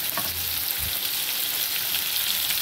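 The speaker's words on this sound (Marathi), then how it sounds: "आणि जी कैरी आपण चिरून घेतलेली ती कैरी टाकायची आहे।" Chopped raw mango tossed into hot oil with curry leaves in a pan over low flame, giving a steady loud sizzle and frying hiss throughout, with a brief low stirring clunk near the start.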